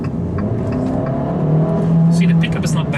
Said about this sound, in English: It is a little delay from throttle response to engine picking up.